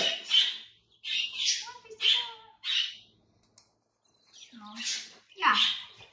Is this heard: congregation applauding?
no